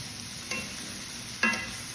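Red onions sauté in a pan, giving a soft, steady sizzle close by. A couple of brief scraping stirs break through it.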